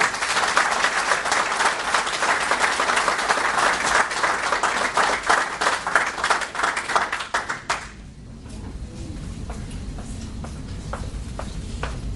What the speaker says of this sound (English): let's have a round of applause for Brittany Graham.